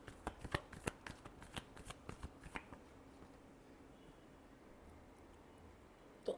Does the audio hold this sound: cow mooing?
no